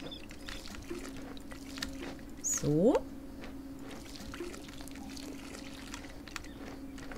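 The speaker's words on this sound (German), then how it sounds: "Dann würde ich sagen, dass wir hier erstmal kurz ein bisschen gießen." A watering can pours over plants in the video game Garden Witch Life, a short bright splashing trickle near the middle over a quiet game background, with a soft voice speaking briefly.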